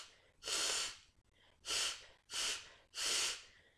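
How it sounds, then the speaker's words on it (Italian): Four forceful bursts of air pushed out through the nose, each a sneeze-like breathy whoosh lasting about half a second, close and isolated with short pauses between. "Pensando a uno starnuto, fate uscire aria dal naso."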